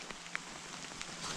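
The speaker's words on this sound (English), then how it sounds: "It's pissing with rain" Heavy rain falling steadily on surfaces at a fishing spot on the River Thames, a dense, constant patter with a few sharper nearby drops.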